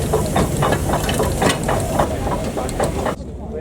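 Three visiting steam traction engines hiss steadily at a busy outdoor gathering, with rhythmic chuffing bursts over a continuous roar of steam, under a background murmur of a crowd.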